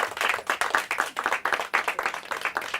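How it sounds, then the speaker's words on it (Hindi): Steady, lively applause from a quiz show audience, dense clapping with rhythmic surges for a team's score, close and continuous. "जोरदार तालियां हो जाए इनके लिए"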